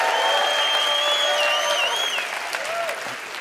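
Sustained applause from a crowd, steady and loud before tapering slightly toward the end, with a ringing tone layered over the clapping.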